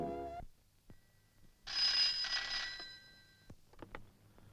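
An old-style telephone bell rings in a single loud burst in an indoor film scene, set between quieter moments with a few soft clicks and knocks, and no talking.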